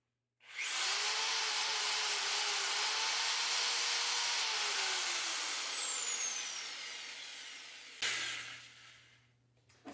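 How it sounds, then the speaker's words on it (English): An electric drill powered by a Jackery solar generator spins up with a high, steady whine that holds for several seconds, slowly drops in pitch, then cuts off with a brief clunk as the motor winds down. "So let's try to drill again."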